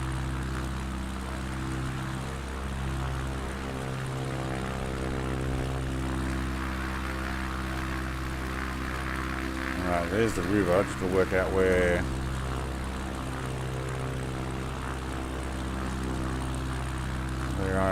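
American Champion Scout propeller plane engine in Microsoft Flight Simulator, a steady droning hum under someone talking, with a short fluttering rise partway through.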